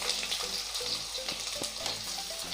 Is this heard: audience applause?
no